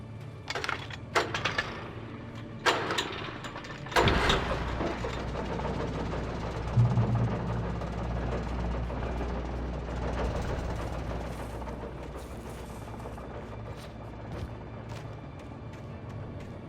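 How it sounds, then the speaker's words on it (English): A steady, droning chainsaw roar in the video game Alan Wake: Remastered, with a rough, buzzing edge, runs continuously after a few sharp clicks and knocks at the start. "That's when I heard the chainsaw."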